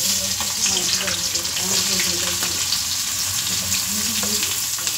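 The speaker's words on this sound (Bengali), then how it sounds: "তো এবার পেঁয়াজটা ভাজা হবে।" Onions sizzling and frying in hot oil in a pan, cooked for a chicken and potato curry, with a steady close crackle and occasional stirring throughout.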